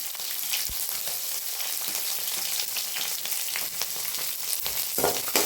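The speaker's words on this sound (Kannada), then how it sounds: "ಫ್ರೈ ಮಾಡ್ಕೋಬೇಕು" Green chillies and dry red chillies frying in oil for a banana flower dish, a busy crackling sizzle with scattered pops and a couple of utensil knocks, close and steady throughout.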